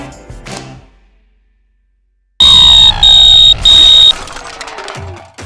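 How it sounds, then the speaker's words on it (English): A piercing smoke detector alarm sounds in three loud, high-pitched beeps after a brief silence. "test your smoke detectors regularly to make sure they're in good working condition"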